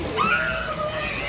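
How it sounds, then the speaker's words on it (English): Water sloshes side to side in waves on a lazy river raft ride at a Volcano Bay water park, a brief splashing wash heard close under a voice. "More waves, like side to side waves"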